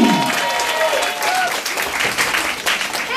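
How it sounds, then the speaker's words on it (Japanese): A crowd applauds steadily, a dense wash of clapping from many hands that carries on throughout. "拍手"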